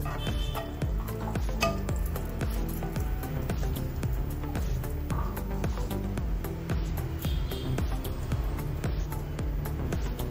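Desiccated coconut being stirred and roasted in a spoonful of ghee in a pan for paneer paan modak, a steady soft scraping and clinking of a spoon against the pan with a faint sizzle throughout.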